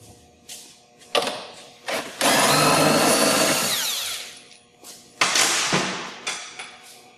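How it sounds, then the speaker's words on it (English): A power tool backing out bolts on a Track N Go tracked drive, with short whirring bursts, one long sustained drilling run, then another burst, plus clunks of handling between them. "We're going to remove the two bolts."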